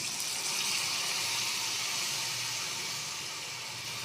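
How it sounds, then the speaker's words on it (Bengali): Water poured into a pan of cauliflower curry on the stove, a steady broadband hiss and sizzle that holds evenly for a few seconds with no talking. "জল দিলাম"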